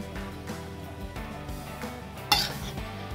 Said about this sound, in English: And now just gently mix. You don't want to break the rice.